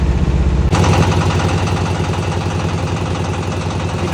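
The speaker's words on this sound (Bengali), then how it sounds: "অজস্র ট্রলার যাতায়াত করে" A trawler boat's engine runs steadily on Kaptai Lake, a close, continuous mechanical drone with a fast regular chug, and a sharp shift in tone partway through as the boat moves along.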